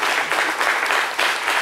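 A TV studio audience on a midday French-language talk show applauds in a steady, fairly loud wash of clapping that continues without pause for under two seconds.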